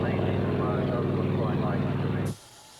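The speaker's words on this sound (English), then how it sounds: "This example of an ex-Korean War UH-19D Mark III is currently used as a spray chopper" An ex-Korean War UH-19D Mark III helicopter, now used as a spray chopper, drones with a steady, throbbing engine and rotor tone at an airshow in New Zealand, a voice over it, before the sound cuts off abruptly.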